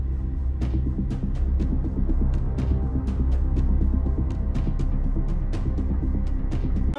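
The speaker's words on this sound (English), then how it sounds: "Okay, my mother's sewing machine." A sewing machine runs with a steady low hum and rapid, regular ticking clicks, close and moderately loud, with no voices.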